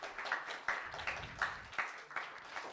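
A small gathering of middle-school students at a church youth service gives quiet, scattered applause, with a few distinct claps standing out over soft background murmur.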